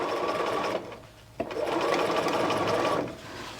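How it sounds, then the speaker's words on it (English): Domestic sewing machine stitching a hem facing on a McCall's 7862 garment, running in two steady bursts separated by a brief pause with a small click, close and fairly loud. "I want to make sure that my seams are staying open as we sew this facing"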